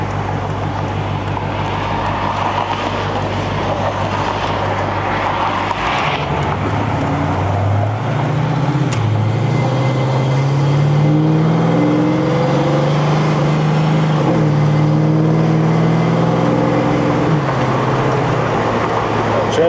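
A V8 from an LS-swapped 1986 Chevrolet Monte Carlo SS revs up and climbs through gears at night, a steady low rumble with rising and falling pitch across several shifts, loud and close.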